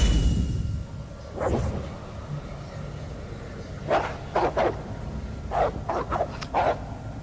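Dogs barking in the 1981 computer role-playing game Wizardry: The Proving Ground of the Mad Overlord, a single bark followed by a quick cluster of several yips and barks, fairly close over a quiet background.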